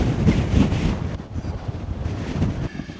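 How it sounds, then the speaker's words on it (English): Strong wind buffets the microphone in loud, rough gusts, a continuous roaring rumble that swells and eases without any voices. "Bloody windy."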